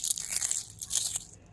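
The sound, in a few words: crispy homemade chilli potato chips being broken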